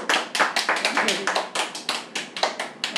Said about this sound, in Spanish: Y un aplauso para Cristo, que ese es el más importante, para Cristo.